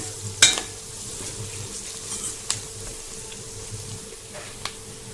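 Onion, tomato and turmeric fry in oil as they are stirred in a pan: a soft, steady sizzle with a few sharp utensil clinks and scrapes, close by and without speech.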